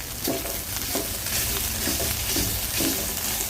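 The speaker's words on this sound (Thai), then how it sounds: "เรามาผัดให้หอมก่อนนะคะ ผัดให้น้ำพริกหอม" Thai red chili paste with shrimp paste being stir-fried in oil for a spicy curry, a loud, continuous sizzle with regular scraping strokes of the spatula roughly every half second; no talking.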